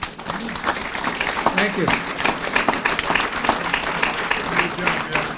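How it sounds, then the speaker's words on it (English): Audience applause at a historical society meeting, dense steady clapping from a room full of people that carries throughout, with a voice speaking briefly over it. "one more big round of applause"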